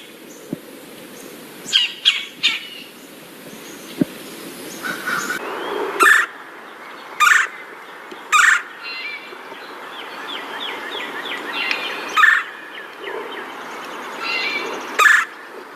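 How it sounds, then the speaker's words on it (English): Red-bellied woodpecker giving a series of short, harsh chirr calls, repeated at irregular intervals over a faint steady background, fairly close and clear. "The red-bellied woodpecker, which doesn't have much of a red belly, makes a series of chirr or cha notes"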